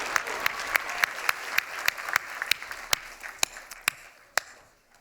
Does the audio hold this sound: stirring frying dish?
no